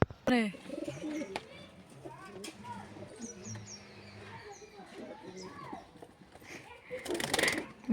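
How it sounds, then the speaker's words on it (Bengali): Pigeons at a pigeon sale coo in soft, repeated rolling calls close by. Chirps and brief rustles are scattered among the coos, and a burst of hissing noise comes near the end. "পায়রা সেল আছে পায়রা দেখাবে"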